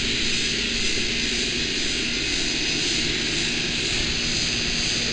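Outdoor compressor unit of a home air conditioner runs with a steady, loud mechanical drone and broadband hiss, unchanging and close for the whole stretch, with no voices.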